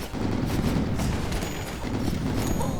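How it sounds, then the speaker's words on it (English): An Archmage in Rogue Legacy fires a barrage of magic missiles: dense, continuous rapid-fire bursts and booms packed together over a few seconds, loud and unbroken, with some high chiming tones layered on top. "That's a lot of missiles."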